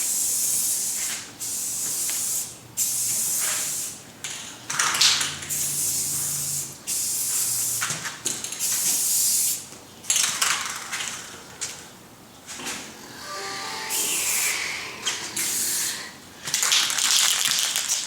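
Aerosol spray paint can hissing in repeated strong bursts of varying length while coating interior car trim and dash pieces, close and loud, with short pauses between passes and no talking.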